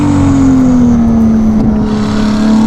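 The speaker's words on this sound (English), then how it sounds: "So we've got the wackiest exhaust on this. Oh, which is very alive. This is the first time that I'm driving with a bit of hard acceleration" A Ferrari 296 GTB fitted with a Novitec exhaust accelerates hard, its loud, steady engine note holding a strong drone that sinks slightly in pitch, heard up close with no talk.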